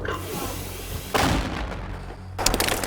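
Two sharp, loud gunshot blasts about a second apart, each a sudden broadband crack followed by a rumbling tail, heard outdoors during the defense of Bakhmut.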